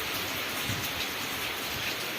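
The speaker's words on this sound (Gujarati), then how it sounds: "હજી છાંટા પડે છે પાણી વહી નીકળે" Unseasonal rain falls on a Gujarat village farm in a continuous soft hiss, even and unbroken throughout, with no voices.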